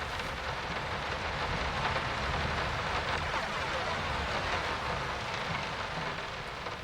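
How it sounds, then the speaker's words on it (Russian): Steady, dense rain pours without pause in the horror video game Layers of Fear, a loud, even hiss of drops with faint low rumbling underneath and no talking. "Звук дождя, конечно, жесть."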